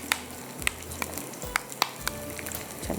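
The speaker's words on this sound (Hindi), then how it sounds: "ये ऊपर से जा रहा है इसके ऊपर तड़का गार्लिक का और इसके साथ यहाँ पर चिली का" A garlic and chili tarka sizzles over Singaporean rice in a steady, crackling hiss broken by sharp little pops and spatters, fairly close, with no voices.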